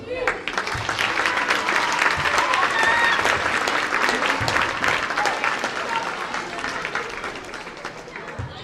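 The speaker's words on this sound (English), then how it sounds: "Let's have one last round of applause for our seniors" Sustained applause from a gym crowd honoring seniors at a volleyball event, many hands clapping in a steady roar with some voices and cheers mixed in, easing slightly toward the end.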